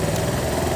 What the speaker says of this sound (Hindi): और एक्चुअली बाइक स्टार्ट हो चुकी है